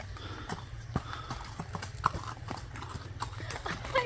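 Hooves of a horse or burro clip-clop in a steady walking rhythm, close and fairly clear, with no talking.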